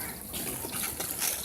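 At a crocodile park in Chennai, water sprays steadily as a shower for crocodiles, giving a continuous hissing, splashing rush that is close and moderately loud.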